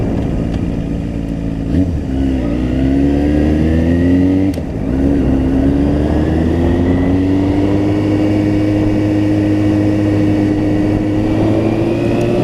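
A crashed Yamaha FZ6 motorcycle is ridden on a road with a steady, close engine drone. The revs climb gradually, with a brief dip partway through. No voices are heard.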